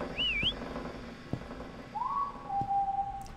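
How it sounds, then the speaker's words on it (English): Whistling from a character in the video game Lazaret, two clear tonal whistles, a rising-falling call then a longer flat note, fairly distant over a quiet low rumble. "Does that mean he's whistling back to me?"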